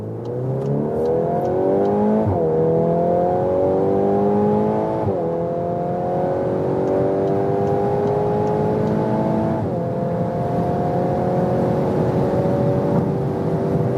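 A VW Golf R Mk8, 333 hp special edition, accelerates hard in race mode on the Autobahn, the engine droning loudly from inside the cabin as pitch climbs through several gears with distinct upshift drops.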